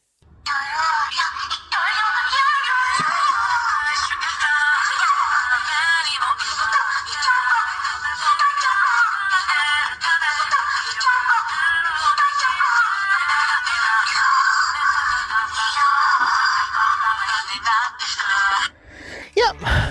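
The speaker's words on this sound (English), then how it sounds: "you can play the music over both modes, even the transformation one" A DX Oshaberi Gochizo toy from the Kamen Rider Gavv line plays its built-in music in auto mode, a steady bright tinny tune through a small speaker, running continuously for about twenty seconds before cutting off.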